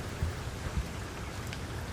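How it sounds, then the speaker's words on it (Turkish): Steady rain falls outside, a dense even hiss with a couple of low soft thumps, heard alone without talk. "dışarıda harika bir yağmur sesi bana eşlik ediyor"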